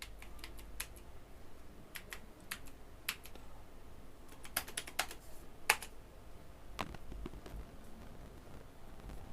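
Fingers tap out a WiFi password on a computer keyboard, giving quiet, irregular clicks and clacks with small pauses, close and soft over a low hum.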